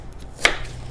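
One crisp knife stroke slices through raw jicama on a cutting board while it is cut into chips, a single short chop heard close up in a quiet kitchen.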